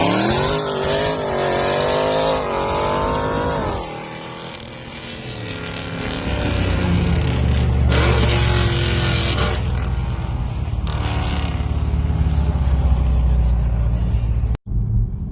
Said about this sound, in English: it had the same type of deceleration noise that my Scat Pack had, but it's way deeper